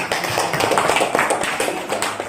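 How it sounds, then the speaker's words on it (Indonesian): Classroom applause from a group of students, a dense burst of clapping filling the whole moment, close and loud. "Tepuk tangan untuk"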